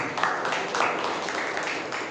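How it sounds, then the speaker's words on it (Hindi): A group clapping for an uncle during a Hindi-language Bible talk, a brief, steady patter of many hands with a few louder bursts, moderately close, with no voice over it. "वेरी गुड, अंकल के लिए हम ताली बजाएंगे"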